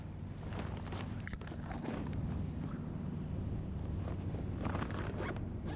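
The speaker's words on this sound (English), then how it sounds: "I can pull up the zipper." A long sail bag zipper pulled steadily closed on a boat, close by, with wind buffeting the microphone and faint outdoor water noise behind it.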